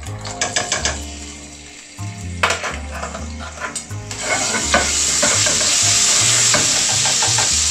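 Garlic hitting a curry pan for a British Indian restaurant-style chicken Madras, rapid rhythmic metal spoon stirring and scraping that gives way to a loud, steady sizzle, close by with no talk.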